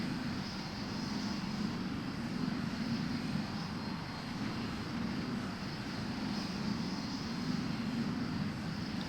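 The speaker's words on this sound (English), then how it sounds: "And we're taking off." A Me-262 jet fighter takes off in the flight game IL-2 Sturmovik 1946, its engine roar a steady, loud, unbroken drone that holds level for the whole stretch with no voices over it.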